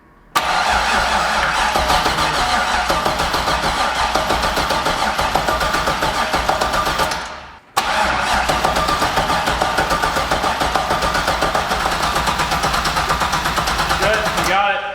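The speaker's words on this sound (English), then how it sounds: "We're gonna crank it until it builds oil pressure." A turbocharged LS6-swapped Volvo wagon engine cranks over on the starter without firing, a loud rapid rhythmic churning held for about seven seconds, then a brief stop before a second equally long cranking run.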